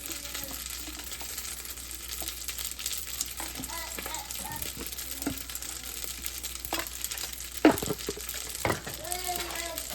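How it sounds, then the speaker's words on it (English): Seasonings with garlic powder, onion powder and bouillon cubes are stir-fried in a pan for Nigerian fried rice, giving a steady sizzle broken by scraping stirs and occasional spoon knocks, with faint voices in the background. "And I'm gonna stir fry."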